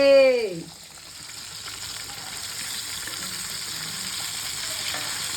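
Fish sizzles steadily in hot oil, a constant crackling hiss that holds at even loudness after a brief tonal sound at the very start.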